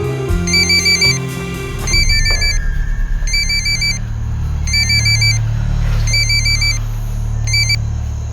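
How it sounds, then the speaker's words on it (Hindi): A mobile phone rings with a repeating electronic trill in short regular bursts, loud and near, over a low rumbling engine drone, with no talking. "रिंग जा रही है सर"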